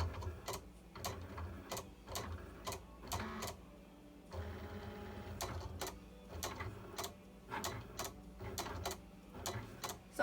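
A craft cutting machine draws a bow holder design with rapid rhythmic ticking and clattering strokes over a steady motor whir, close and continuous with a brief pause midway, with no voices.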